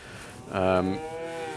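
A single cow on a calving dairy farm with Friesian and Angus cattle gives one loud, close moo of under half a second, set against faint outdoor background noise.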